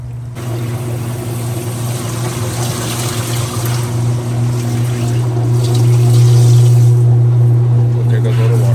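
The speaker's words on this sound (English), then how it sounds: "There goes all the water" Water draining out of a clothes dryer under repair, a steady pump-driven gurgling rush with a strong low hum that grows slightly louder toward the end, continuous and close.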